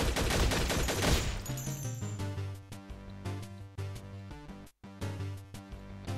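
Rapid gunfire in the zombie game Infectonator: Survivors, dense bursts of shots in quick irregular rhythm over game music, loud and close with a brief dropout near the end, no talk.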